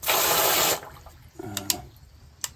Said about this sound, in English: Seems to be draining now.